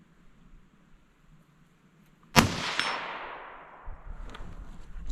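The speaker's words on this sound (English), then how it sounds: "I'm going to aim at the bottom of that 8-inch plate. There we go. Still hitting a little high." A Savage 93R17 rifle fires a round that strikes an 8-inch steel plate: one sharp, loud crack with a long metallic ring that slowly fades. A fainter knock follows near the end, with no talking.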